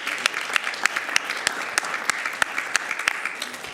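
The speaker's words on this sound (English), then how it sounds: "Let's give that a round of applause to that." Applause at a school district board meeting honoring student attendance, a modest crowd clapping with several sharp individual claps standing out, steady throughout, with faint voices beneath.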